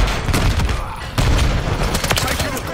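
Modern Warfare 3 gunfire in a loud, dense burst of shots and booming impacts that drops briefly before resuming, with voices mixed under the game audio.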